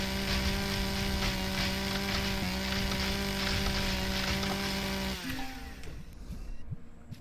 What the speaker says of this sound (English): if I didn't craft a chainsaw, how did I cut down a tree?